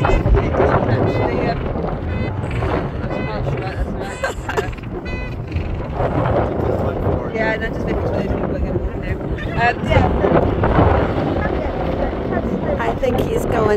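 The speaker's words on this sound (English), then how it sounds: "Generally, it's so windy." Strong wind buffets the microphone at a penguin rookery on Bluff Cove in the Falkland Islands, a loud continuous rumble and roar with people talking underneath.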